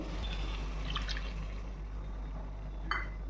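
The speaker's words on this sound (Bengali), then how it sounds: "এতে যেটা লেগে আছে সেটা জল দিয়ে একটু দিয়ে দেবো" Water is poured into a pan to rinse off spice residue while chicken curry cooks, making quiet, brief trickles and drips over a low background hum, with no voices.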